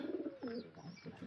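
Pigeons coo softly in their nest, a brief, faint, low cooing heard close by with no talking.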